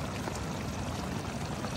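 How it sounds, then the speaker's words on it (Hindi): Rainwater leaks into a tent during a heavy downpour, heard as a steady, dense pouring hiss of water with no pauses across the short stretch. "पानी देखो है ना अंदर से पानी आ रहा है"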